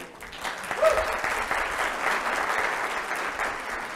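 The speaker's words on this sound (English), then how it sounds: "The applause really belongs to all of you." Audience applause at a coastal lecture series event in a library, a steady sustained patter of many hands, moderately distant, with no one speaking over it.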